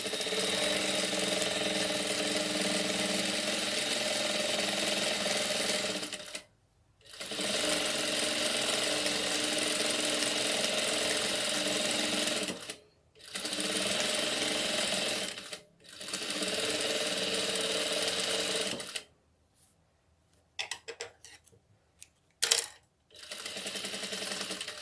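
A sewing machine stitches a seam on a doll dress in rapid, continuous bursts, each run lasting several seconds and separated by brief pauses, then ending in short, choppy stops and starts near the close.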